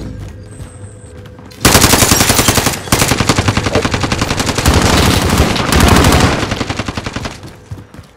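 Sustained automatic gunfire in the Warzone shooter game, rapid bursts of machine-gun shots that start abruptly and continue loud and close for several seconds with brief pauses.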